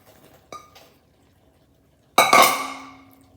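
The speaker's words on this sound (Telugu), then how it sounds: "ఈ సోయా చంక్స్ ఇవన్నీ వేసేసుకుందాం" Squeezed soya chunks go into a pan for a soya pepper fry. A light clink comes first, then a loud clattering splash as the chunks hit the pan, fading out over about a second.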